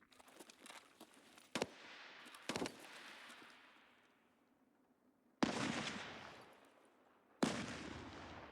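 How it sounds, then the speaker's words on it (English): Gunfire in a shooter video game called The Escape, set at the Flea Market, with pistols only. A few sharp, loud reports are followed by long, fading echoing tails and stretches of quiet between them. "Somebody's shooting these guys from the side."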